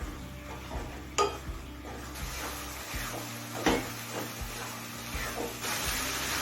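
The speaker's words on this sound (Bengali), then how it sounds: "এবার গ্যাসটা জেলে দিয়ে হাই ফ্লেমে গুড় আর নারকেলটা কিছুক্ষণ নাড়াচাড়া করতে হবে" Jaggery and grated coconut stirred in a pan over a high gas flame, a low sizzle under intermittent scraping and clinks of a spoon against the metal pan.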